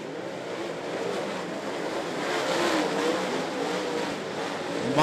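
Race cars speed around a track while the Marler brothers battle for fourth and fifth place, producing a steady, moderately loud engine roar with rising passes, and no talk.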